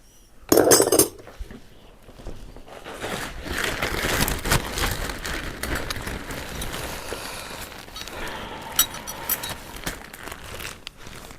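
Metal cutlery, a fork and spoon, handled near the microphone, with a sharp clatter early on followed by softer rustling, scraping and occasional light clinks.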